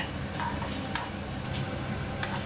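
Garam masala spices dry-frying in a pan on low heat, with a steady soft crackle and sizzle and a few light scraping stirs, close and alone with no talk.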